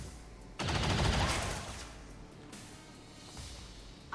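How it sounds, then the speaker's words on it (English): Gunfire during a mission in the turn-based strategy game XCOM 2: one loud, dense burst of rapid shots that fades out, followed by a fainter shot a few seconds later. "I'm taking fire."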